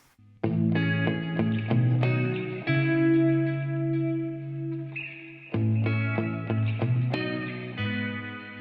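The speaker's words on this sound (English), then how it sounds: "Together the guitars sound like this." Left and right muted electric guitar power chords layered together, a sustained series of distorted chord strikes with ringing overtones and reverb, rhythmically changing chords, played alone with no talking.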